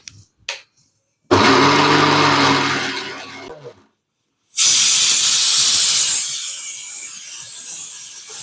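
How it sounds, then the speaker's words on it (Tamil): A mixer grinder grinding lentils for vada runs in two loud bursts, a harsh whirring roar that stops, pauses in silence, then restarts with a brighter, hissier grind. "இப்போ பருப்பு அரைச்சி எடுத்துக்கலாம்."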